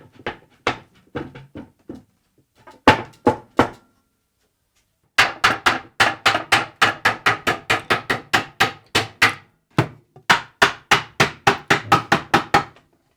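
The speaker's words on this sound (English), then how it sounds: "use the guide block with a chisel again to pare the area back and make it perfect" Chisel paring wood against a guide block while fitting a router bit cabinet case to its tailboard: a run of sharp, close wooden knocks and taps, sparse at first, then a fast steady rhythm of strikes with short pauses.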